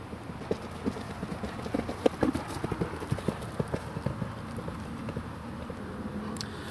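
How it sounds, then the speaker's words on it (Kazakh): A horse's hooves clip-clop at a steady walking pace as it is led over hard ground, the distinct knocks moderately close and fairly prominent against low outdoor background noise, with no one talking. "Атты алып келсең, Данияр."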